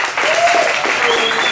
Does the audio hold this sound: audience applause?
yes